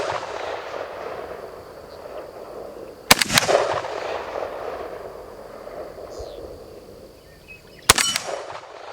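Two sharp, loud AK-47 rifle shots from a Riley Defense rifle ring out at an outdoor range a few seconds apart, each followed by a brief echoing tail over steady background noise.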